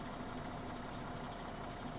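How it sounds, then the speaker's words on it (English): Valtra T-Series tractor engine in Farming Simulator 2017, a steady low mechanical drone running without break through the whole short stretch, with no voices. "this is our new tractor here, the Valtra T-Series"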